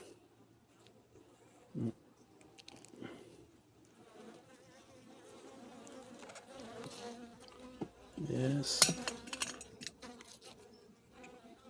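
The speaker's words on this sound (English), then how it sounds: "in this period the bees are not so happy if you visit them" Honey bees buzz around a Segeberger Simplex hive during an inspection, with a low, wavering drone that swells and fades as insects pass near, over soft background noise and a brief spoken word.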